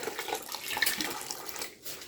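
Water from a canning pot emptied into a glass jar of applesauce while home canning, a steady splashing pour lasting about two seconds, close and moderately loud with no talk.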